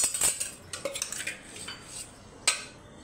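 Fried pointed gourd pieces being added into a mustard gravy, with metal utensils clinking against the pan in a few quick, close, bright taps and scrapes, then a sharper clink near the end.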